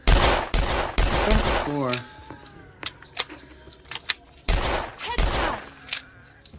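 Rapid gunfire from weapons shooting zombies in the SixthSense video game comes in loud clustered bursts and single sharp shots, with someone talking between them.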